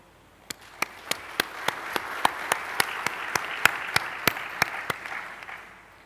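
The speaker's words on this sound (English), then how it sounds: "Join me in applauding them." Applause from a university graduation ceremony audience swells and holds steady, broad and continuous, with a regular beat of sharp loud claps rising above the crowd.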